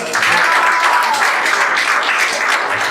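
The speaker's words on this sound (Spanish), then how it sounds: "aplaudan por favor" Steady applause from a crowd, many hands clapping at once, loud and sustained throughout.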